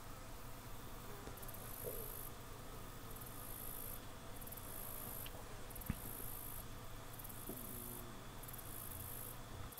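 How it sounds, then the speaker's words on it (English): Bees, including honeybees, buzz among a patch of blooming asters in a September pollinator garden, a soft continuous drone of many wings, faint and steady, with a few brief louder passes. "You can just hear all the bees."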